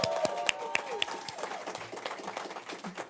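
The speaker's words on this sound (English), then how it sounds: "you want another round of applause for this opening" Brief scattered clapping from a small gathering at a New York cannabis dispensary opening, a handful of sharp claps near the start that thin out over three seconds, with murmured voices underneath.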